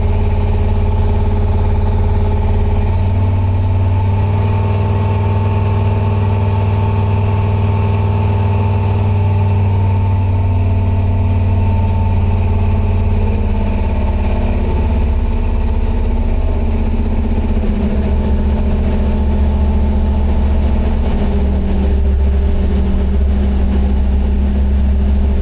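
A carbureted-sounding but fuel-injected LS3 V8 idles steadily in a C10 pickup running a Holley Terminator X, a deep, even rumble close by that holds constant with a slight shift in tone partway through, no voices over it.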